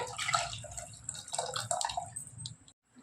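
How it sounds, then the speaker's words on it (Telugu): Dal cooking water and tamarind water pour into a pot, producing faint splashing, trickling and dripping sounds in short bursts that stop near the end. "ఇప్పుడు పప్పు వంచిన నీళ్ళు, చింతపొడి నీళ్ళు పోస్తున్నానండి."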